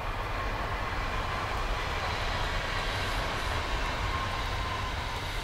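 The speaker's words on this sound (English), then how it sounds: "That's the train back to Amsterdam." A train heading back to Amsterdam passes nearby as a loud, steady, broadband rumble and roar that fills the whole stretch without pause.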